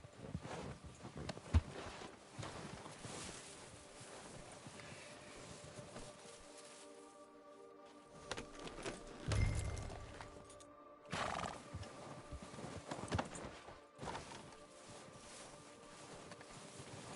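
Horse hooves clip-clop through a Red Dead game scene with an occasional whinny, steady and moderately near over a low wind-like ambient bed, no one speaking.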